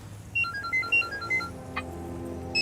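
A mobile phone beeps out a quick melodic series of electronic tones while a call is being placed in a Hindi action film scene. The tones are clear over a low room hum, and a brief blip follows near the end.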